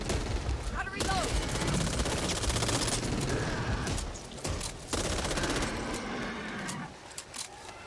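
Gunfire against zombies in the video game Back 4 Blood crackles in dense bursts over a cluttered background, with some quieter gaps between volleys.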